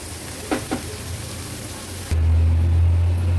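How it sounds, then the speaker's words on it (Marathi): Baby shrimp (karandi) stir-fried on high flame in a pan, a steady broadband sizzle with a couple of brief scraping stirs early on, then a low hum joining the frying for the rest. "आता हाय फ्लेमवर ह्याला थोडंसं परतून घेऊया 1-2 मिनिटासाठी"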